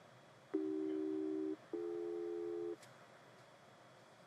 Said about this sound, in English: I'm going to press continuous tone